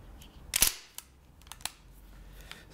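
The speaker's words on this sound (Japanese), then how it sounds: "チャージハンドル引くと" A charging handle is pulled on a PTS Mega Arms MKM-AR15 gas blowback airsoft rifle, giving one sharp metallic snap followed by a few faint, scattered clicks close by.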